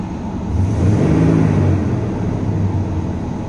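A truck engine idles at the roadside after overheating, a steady, loud, close low rumble that swells slightly early on and then holds even, with no voices.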